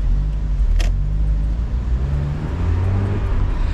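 A Mazda MX-5 Miata's 1.6-litre 16-valve engine hums steadily at low pitch from inside the cabin, a continuous driving drone with a brief rattle near the start.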